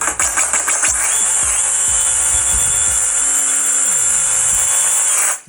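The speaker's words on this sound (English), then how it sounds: "we use the Diyprojects or the DeWalt 20V brushless motor sawzall. Cut that pipe." A DeWalt 20V brushless reciprocating saw cuts through thick 3-inch cast iron pipe, a loud, close, continuous high-pitched grinding buzz sustained for several seconds with rhythmic pulsing at the start before stopping abruptly.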